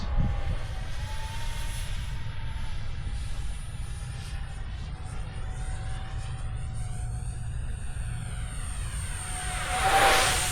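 A model jet aircraft's turbine engine whines steadily as it passes by on a bright sunny day, its pitch shifting slightly before swelling louder at the end.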